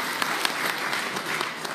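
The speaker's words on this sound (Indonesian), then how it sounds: "Kita berikan tepuk tangan yang meriah." Dense, steady audience clapping fills a political party event where PDIP announces Mahfud MD as Ganjar Pranowo's running mate. It is loud, continuous and crowd-wide, with a few sharper claps standing out.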